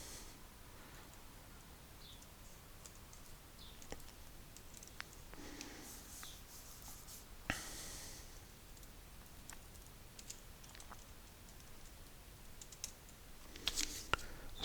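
Code being typed on a computer keyboard for a TypeScript game AI pathfinding project, a faint close run of scattered key clicks and taps over steady background hiss, with no talking.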